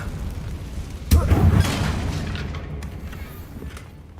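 A Confringo spell explodes in the Hogwarts Legacy video game with one heavy, booming blast that rumbles and slowly fades over a few seconds.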